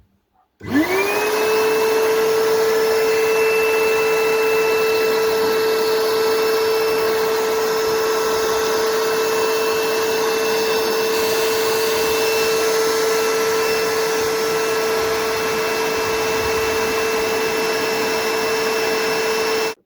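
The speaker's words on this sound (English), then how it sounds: "I'm going to be blowing out the excess water that has been accumulating in the light. So I'm just going to use a blower." An electric blower forces accumulated water out of a car's rear light housing, giving a loud, steady, high-pitched whine that starts abruptly and holds almost unchanged for about nineteen seconds, with no talking.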